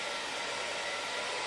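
A Smooth-air T-360 hair dryer blows in a steady, close, airy whoosh with a constant motor hum and no break.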